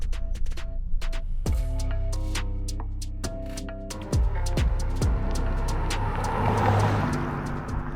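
A 2025 Toyota GR Corolla, turbocharged with all-wheel drive and an automatic, drives on a public street, its engine note holding steady then rising through gear changes, with road and wind noise swelling as it accelerates.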